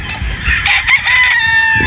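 A Pikom gamefowl rooster crows loudly and close by, delivering one drawn-out, strained call over about two seconds, with no talk.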